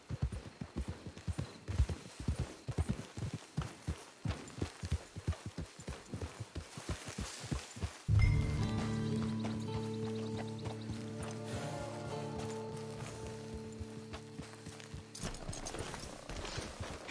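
Steady clip-clop of horse hooves in the Western video game Red Dead Online, a brisk even rhythm for about eight seconds, then giving way to a sustained droning tone with a faint snort.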